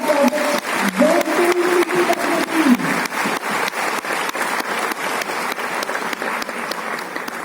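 Steady applause from an audience at an awards ceremony greeting a medal recipient, dense clapping that holds throughout with a brief voice or sound over the start.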